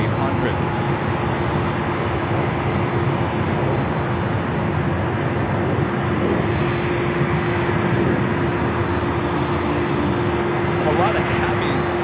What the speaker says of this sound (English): Again, this is Delta Airlines Flight 951 heading to JFK. It's a 25-year-old 767-400ER.